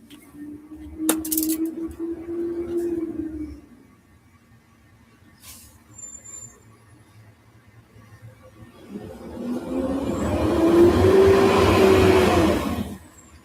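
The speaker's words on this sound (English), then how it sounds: "Oh, I think the fire truck is finally here." A fire truck arrives outside an apartment building: a low engine rumble fades after a few seconds, then a louder, rising swell of engine and rushing noise builds and holds near the end, with no talk.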